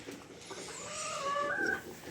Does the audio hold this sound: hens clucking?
yes